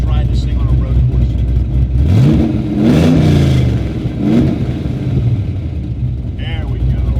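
A 1969 Chevrolet Camaro restomod with a 500 hp LS1 V8 revs sharply twice, then settles back to a steady, smooth idle near 1,000 rpm, heard close with someone talking throughout.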